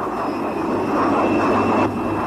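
A cartoon airplane in flight drones steadily and fairly loud throughout, a broad roar with faint high whine tones, holding level until a slight drop near the end.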